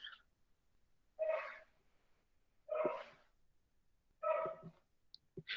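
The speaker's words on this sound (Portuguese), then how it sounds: "meu cachorro tá latindo, alguém tá ouvindo?" A dog barks three times, short sharp barks spaced about a second and a half apart, fairly close, with quiet between them.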